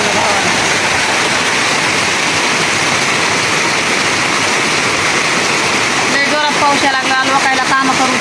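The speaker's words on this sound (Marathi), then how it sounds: "किती पाऊस यायला लागला" Heavy monsoon rain pours down in a dense, unbroken roar, with a voice briefly audible near the end over the downpour.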